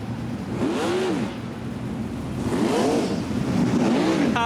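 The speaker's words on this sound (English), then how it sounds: "With the 2 Dan Anderson racing cars out front of this one here, and still double digits left to run in the feature here." Sprint cars race in a feature event, engines whining loudly as they sweep past in repeated waves, each car's pitch rising then dropping as it passes at a dirt oval track.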